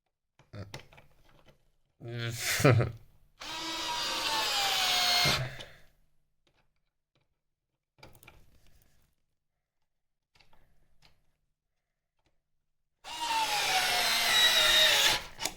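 A Bosch power drill drives 5mm screws into a 3D-printed bracket in two sustained whirring runs, one near the start and one at the end, separated by clicks and quiet handling.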